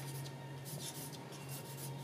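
Pencil scratching across paper while sketching a simple figure at a life-drawing workshop, a steady soft rasping of continuous strokes, close and quiet, with a low steady hum beneath.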